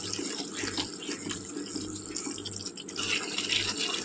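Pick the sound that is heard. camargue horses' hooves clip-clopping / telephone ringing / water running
water running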